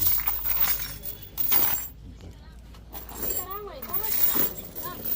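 Metal hooks on a chain for bulls are unfastened at a hardware shop, producing scattered light clinks and jangles close by, with people talking over them.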